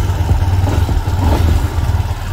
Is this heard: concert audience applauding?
no